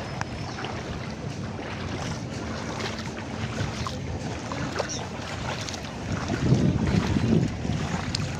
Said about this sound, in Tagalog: Saka napakalakas ng napakalakas ng alon at hangin.